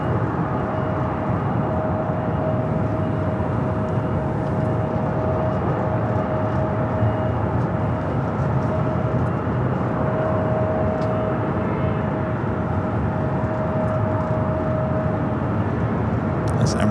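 Emirates airliner turning on the ground at LAX in Los Angeles, a steady, distant jet engine roar with a faint constant whine, continuous and even throughout.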